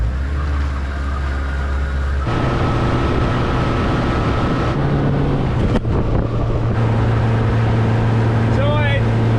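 A boat powered by a Mercury 150 jet outboard runs at wide open throttle, a loud steady engine drone with a rising tone partway through, under a man's speech.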